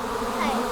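Honey bees buzz steadily during a swarm capture being moved into a hive, a close, continuous droning hum with no voices over it.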